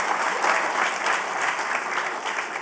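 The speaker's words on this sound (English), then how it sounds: "Let's give that a round of applause." Steady, dense applause from an audience at a college convocation ceremony, sustained and even throughout with no voices standing out.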